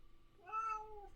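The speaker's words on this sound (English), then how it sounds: "The sweet sounds of this cat." A single drawn-out meow from a pet cat, rising then falling over about a second with clear harmonics, close and fairly quiet against a faint room hum.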